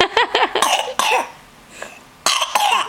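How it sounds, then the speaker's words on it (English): Several short, raspy coughs come in quick bursts from a baby under one year old, close up, with a quiet pause between the first cluster and the last. "That cough's only gonna get worse."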